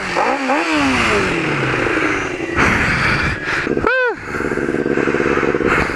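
A sport bike is started while off-road on a hill, its engine cranking and catching, then revving up and down in loud rising and falling bursts, with voices heard briefly at the start.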